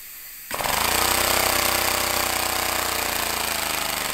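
An air-powered engine starts abruptly and runs at a very low idle, giving off a loud, steady, buzzing rattle that stays even to the end.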